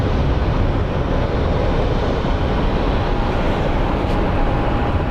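An airliner departs Phoenix Sky Harbor airport bound for Oakland, its engines a loud, steady broadband roar that holds unbroken throughout, with no talking.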